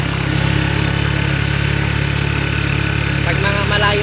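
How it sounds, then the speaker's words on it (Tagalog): A steady, low engine idle drones on without a break, loud and close, with a constant rumble and no clear revving. "malakas naman po itong motor"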